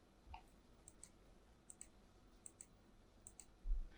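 A computer mouse clicks while members are inserted in structural frame analysis software, producing quiet, crisp paired clicks spaced at irregular intervals over a faint background hiss, with a soft thump at the end.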